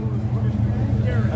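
A Plymouth Roadrunner idles at an outdoor car show, a steady low rumbling engine burble held close and even throughout.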